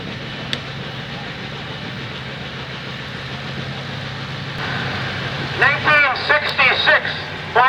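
A 1966 Farmall 806 tractor engine idles in a thresheree parade with a steady, low, rough rumble throughout, and voices join in over the final couple of seconds.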